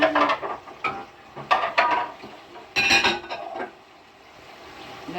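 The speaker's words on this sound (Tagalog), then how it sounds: "Hindi cooking ang ano natin ay washing dishes." Dishes are washed in a home kitchen: plates, cutlery and pots clatter and clink in quick, uneven bursts near the sink, with short gaps between the clanks and a quieter stretch near the end.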